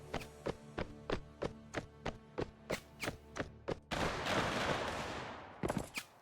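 Musket volley fire in Mount & Blade Warband, American Civil War battle: a rapid series of sharp cracks in steady rhythm, then a dense roaring burst of many shots together, followed by a few more scattered reports.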